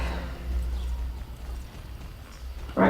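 In the Star Stable video game, a horse's hooves clip-clop softly and steadily at a moderate distance during a jump, ending with a brief louder burst.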